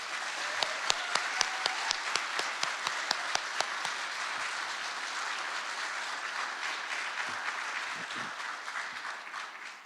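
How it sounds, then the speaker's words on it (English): Applause for the master of ceremonies at a police service recognition awards evening, with a dense, sustained wash of many hands that has a few sharper individual claps near the start and holds steady before easing slightly. "Let's give a big round of applause for our Master of Ceremonies tonight"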